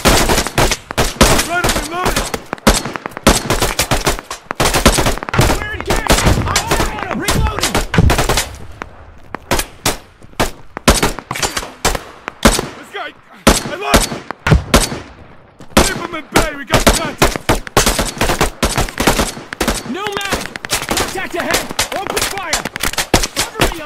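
Bursts of automatic and single-shot gunfire from the PMC shooter game Risala come in rapid, loud volleys with brief lulls between them. Shouted voices break in over the shooting now and then.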